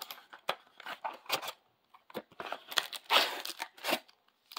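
A foil pack of Stranger Things Netflix trading cards is torn open close by, with irregular bursts of crinkling, tearing and rustling wrapper between short pauses.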